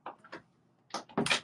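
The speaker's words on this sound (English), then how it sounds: "Okay, doors closed." A door or cupboard is shut indoors: a few close knocks and rattles, then a louder bump as it closes.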